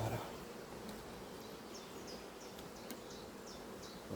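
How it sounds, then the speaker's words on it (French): Honeybees buzzing around a hive at an apiary in June, a steady faint drone of many insects with a few brief louder fly-bys, with no talk. "Donc là, on va enlever les abeilles."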